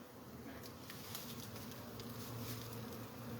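Angry bees swarm around a hive being removed from a cable box, their dense, steady buzzing loud and close for the whole stretch with no break.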